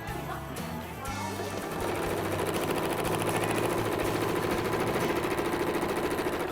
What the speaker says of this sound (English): Put your machine down on the other side, backstitch, and do the same thing.